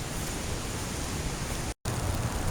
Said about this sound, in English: It's raining lightly